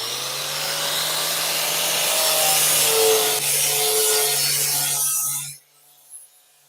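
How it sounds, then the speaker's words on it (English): A power sander grinds steadily across a boat's surface for about five seconds, loud and close with a constant motor whine, then it cuts off abruptly and leaves near silence. "let me go in here with the sander real quick and see what it does now"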